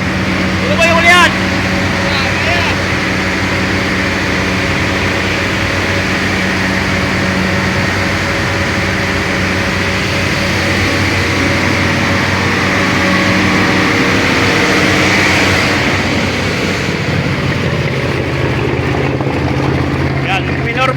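A boat's center engine runs at reduced, roughly half throttle during a sea trial with a new propeller, giving a steady low drone. Someone talks over it almost throughout.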